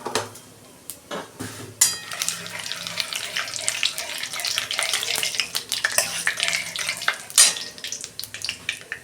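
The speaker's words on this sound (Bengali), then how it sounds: "তেজপাতা একটা দিচ্ছি, জায়ফল, জয়িত্রী আর এলাচ, দালচিনি তেলেতে দিয়ে দিচ্ছি।" Whole spices, bay leaf, nutmeg, mace, cardamom and cinnamon, dropped into hot oil for a home-style chicken curry, a dense steady sizzle and crackle after a few clunks of handling, close and loud.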